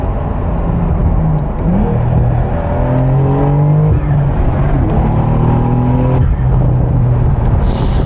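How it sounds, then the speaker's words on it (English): A Porsche 911 992 4S with a seven-speed manual gearbox accelerates hard from inside the cabin, its turbocharged engine rising in pitch through rising harmonic sweeps, loud and continuous, with a brief whoosh near the end. "The turbo sound is"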